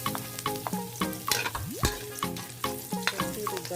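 Garlic fried and stirred in a pan for a Filipino chopsuey in Sibulan, Negros Oriental: a steady close sizzle broken by repeated scraping strokes of a utensil against the pan, with no talking.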